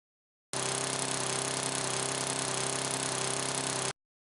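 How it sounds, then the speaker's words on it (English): A lawnmower sound effect from the Windows 3.1 Adventures of Batman & Robin Cartoon Maker game, a steady, loud, unbroken engine drone lasting about three and a half seconds, starting and stopping abruptly, with no talk. "A nice lawnmower sound."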